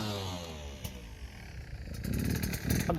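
Motorcycle engine revving hard with repeated throttle blips during wheelie practice, a loud, close, continuous drone that surges and climbs in pitch, with a rougher, louder burst toward the end.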